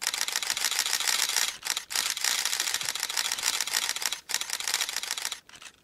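A camera shutter clicks rapidly in long continuous bursts, pausing briefly between runs, close and crisp.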